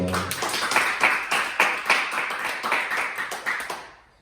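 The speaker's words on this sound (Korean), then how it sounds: "그럼 하나님께 영광의 박수 올려드리겠습니다" A church congregation at Sunday worship claps together in a lively, roughly rhythmic burst of many hands, the strikes pulsing steadily before trailing off at the end.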